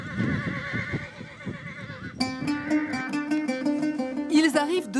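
Horses neigh at a Moroccan fantasia, with one loud, trembling whinny rising clearly over a low rumble of crowd and voices, followed by another shrill call near the end.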